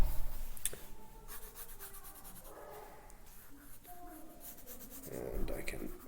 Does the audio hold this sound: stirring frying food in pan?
no